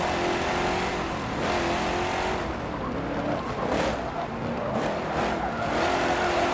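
A Porsche 928 GTS races in Forza Motorsport 7, its engine roaring steadily and rising and falling with gear changes, with hints of tire squeal under a continuous loud drone.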